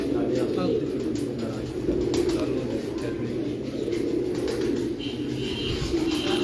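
Pigeons, high-flying birds kept by a fancier, cooing amid a dense, noisy background with people talking throughout, the coos low and blended into the steady hubbub.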